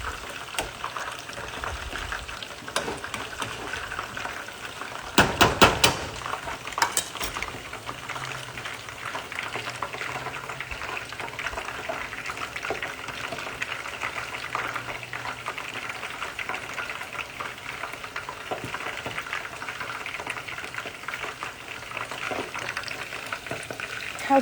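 Chicken pieces for sweet and sour chicken deep frying in hot oil, giving a steady, close sizzle and bubbling throughout, with a brief burst of clattering about a quarter of the way in.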